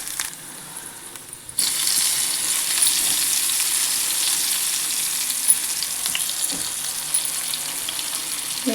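Tomato pieces sizzle and fry steadily in a hot pan, the sizzle jumping louder after a quieter opening second and then holding a dense, continuous crackle with small stirring clinks.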